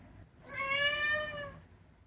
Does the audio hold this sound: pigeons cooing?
no